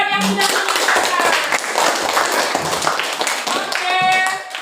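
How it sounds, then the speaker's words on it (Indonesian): A classroom group claps for a student who has just summed up a lesson, a short burst of scattered hand claps with voices chattering over and between them. "tepuk tangan buat yang sudah menyimpulkan."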